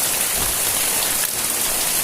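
Heavy monsoon rainwater falling and splashing into a flooded courtyard in Ratnagiri at night, a constant close roar of drops with no pauses.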